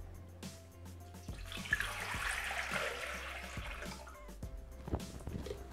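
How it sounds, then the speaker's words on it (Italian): Water poured into a Thermomix (Bimby) mixing bowl while making pasta with gorgonzola and mascarpone, a steady close splashing and trickling that runs for several seconds. "Iniziamo la ricetta mettendo all'interno del boccale l'acqua."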